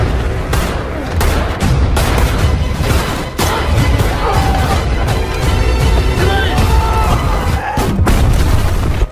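Heavy gunfire in a movie shootout, dense overlapping shots and booming blasts filling the scene loudly and almost without pause, with sharp cracks standing out.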